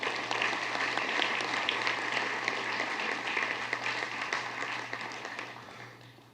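A school board meeting audience applauds, a dense continuous round of clapping at steady volume that slowly tapers off toward the end, with no talk.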